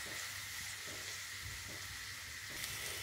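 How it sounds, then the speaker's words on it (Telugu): Onion pieces and green chillies frying in a pan for a taro curry, giving a steady, even sizzle and hiss throughout, close and soft, with no speech. "ఉల్లిపాయ ముక్కల్ని బాగా వేగనివ్వాలి"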